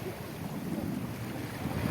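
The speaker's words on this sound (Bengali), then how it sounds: "সমুদ্রের জল ও পাথরের ঘর্ষণটা দেখুন।" Sea water washes against rocks at Digha Mohona on the beach, a soft continuous rush of surf mixed with wind buffeting the microphone, steady and moderately quiet with no voices.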